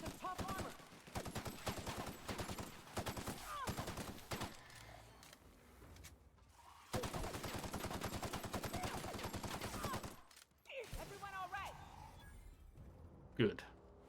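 Rapid gunfire bursts in the sci-fi shooter Outer Worlds: Spacer's Choice Edition, dense and loud through the first half, pausing, then returning in another long volley mixed with game effects and a player talking over it.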